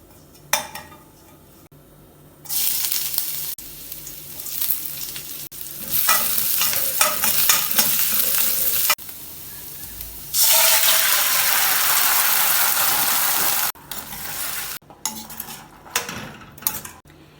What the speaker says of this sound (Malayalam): പാൻ ചൂടാക്കി ജീരകൂട്ട് ഫ്രൈ ചെയ്ത് ഇഞ്ചിയും പച്ചമുളകും ചേർത്ത് ഇളക്കി വേവിച്ചെടുത്ത കടല ചേർക്കാം